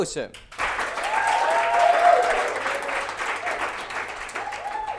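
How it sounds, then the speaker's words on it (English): Steady, full applause from a studio audience greeting a guest at a TV kick-off event, rising after a brief pause and sustained evenly throughout at moderate loudness. "give him a warm applause"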